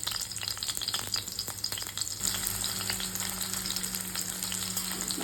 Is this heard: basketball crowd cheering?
no